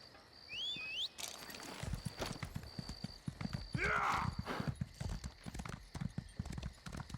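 Horse in Elder Scrolls Online neighs with a rising whinny, then its hooves pound in a quick galloping rhythm, close and fairly loud, with a short chirping tone early on.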